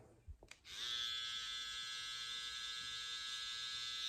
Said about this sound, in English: Grab the trimmer, go like this, and then just get it off the lip